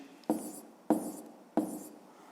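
Pen on paper while a maths exercise answer is written down: three short, close scratching strokes, evenly spaced and faint, with no speech.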